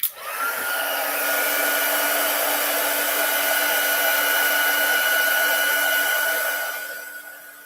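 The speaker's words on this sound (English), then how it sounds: "I'm going to bring in my heat tool just to dry that a little bit" A papercraft heat tool blowing steadily to dry glue on a card base: a loud, close, continuous whirring hiss that holds level for about six seconds, then fades as it is switched off.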